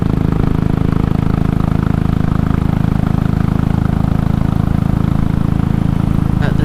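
A Royal Enfield Classic 500 motorcycle engine idles steadily at about 500 RPM, a continuous close, loud throbbing hum with no change in pitch.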